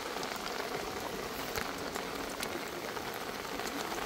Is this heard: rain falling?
yes